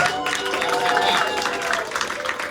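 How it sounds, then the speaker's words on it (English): Sustained applause and some cheering from a crowd at a bad love poetry night, clapping for the poet Sydney Mays, steady and fairly loud for the whole stretch with a faint tonal hum underneath. "let's give Sydney Mays one more round of applause"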